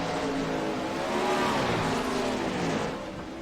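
Several 410 sprint cars race around a dirt track, their engines blending into a continuous high, wavering roar that swells and fades slightly as the cars pass at a distance.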